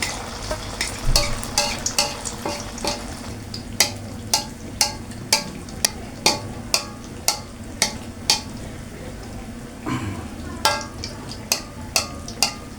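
Hot oil sizzles steadily and close as kue cucur batter fries, punctuated by sharp, regular clicks and scrapes as oil is ladled over the cake's centre.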